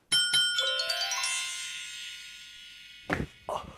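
A shop doorbell chimes with a bright ding-dong, the tones ringing out and slowly fading, followed by a couple of soft knocks or clunks.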